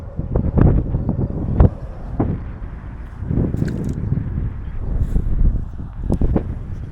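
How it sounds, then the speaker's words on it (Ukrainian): Strong wind buffets the microphone in loud, rumbling gusts that rise and fall continuously, with faint rustling underneath and no speech. "Вітрюган страшний."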